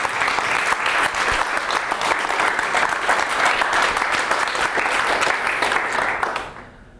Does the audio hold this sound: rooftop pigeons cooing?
no